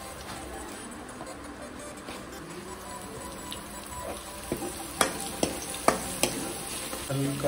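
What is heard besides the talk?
garlic paste frying in a pan for mushroom curry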